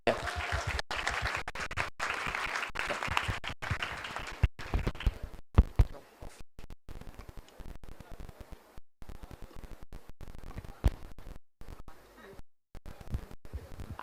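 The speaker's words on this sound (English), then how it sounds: "Could we please have another huge round of applause for our panelists and judges for today?" Sustained applause from an audience at an economic summit, dense and steady for several seconds, then thinning into scattered claps with a speaking voice over the top.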